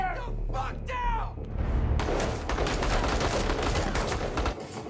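A TV-show firefight with rapid bursts of gunfire packed densely together, loud and close, under shouted voices and clashing sound effects.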